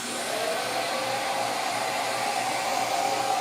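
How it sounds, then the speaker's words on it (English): A CNC router spindle whines steadily while helix-drilling holes in wood for a bench dustpan, a continuous high-pitched motor hum with no breaks and no voices. "the spindle is going to go ahead and spiral all the way down to the bottom of that hole"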